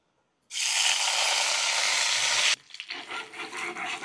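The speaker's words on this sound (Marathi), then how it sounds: "आपण आता अंडे फ्राय करून घेऊ" Eggs drop into hot oil in a frying pan and burst into a loud, even sizzle for about two seconds, then settle into softer intermittent crackling.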